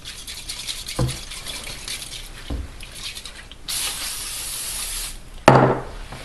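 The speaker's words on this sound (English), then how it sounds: "You need to spray the surface with a non-stick spray" Short hissing bursts of non-stick cooking spray hit a surface, a few brief spritzes followed by one longer spray, close and fairly quiet, mixed with light handling clicks.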